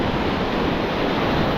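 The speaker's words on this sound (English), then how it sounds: "The waves just seem to keep coming through." Ocean surf breaking on a flat, structureless beach in rough conditions, a loud continuous wash of foaming waves with wind buffeting the microphone, no voices.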